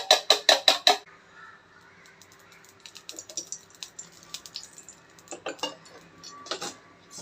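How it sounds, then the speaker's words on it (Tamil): Four cracked eggs whisked with salt and a little pepper powder on a plate, utensil tapping the plate: a fast burst of sharp clinks, then quieter scattered scraping and clicks, with another brief rapid run of taps near the end. "இதோட சால்ட்டு, கொஞ்சோண்டு மிளகு பொடி இதை நல்லா கலக்கிடுவோம்"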